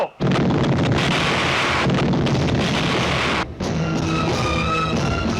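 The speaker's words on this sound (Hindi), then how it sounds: "देवू, बेटे देवू, ये हवेली बारूद से उड़ा लो।" A mansion blown up with gunpowder in a film climax: a loud, sustained roaring blast with rumbling debris and crackle that fills the space, briefly dipping, then continuing with layered tonal effects, no voices.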